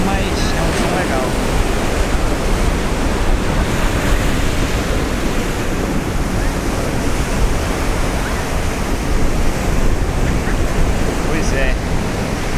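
Ocean surf breaks steadily at Pompano Beach, Florida, a dense, continuous roar of waves with some wind rushing across the microphone and no clear pauses.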